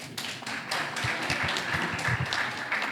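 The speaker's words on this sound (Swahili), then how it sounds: "Hebu tupigeni makofi kidogo" A university audience claps together at a ceremony, a steady, dense wash of many hands that carries on without a pause for the whole stretch.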